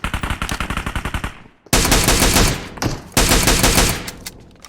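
Rapid automatic gunfire from a gun in the battle royale game PUBG Mobile: a fast burst of evenly spaced shots, then two longer, dense sustained volleys, loud and close with no talk.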